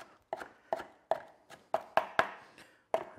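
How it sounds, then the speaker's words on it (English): A kitchen knife roughly chops grilled vegetables for lasagne on a cutting board, giving about nine sharp, close knocks at an uneven pace with short pauses between them. "all we need to do is just give it a bit of a chop"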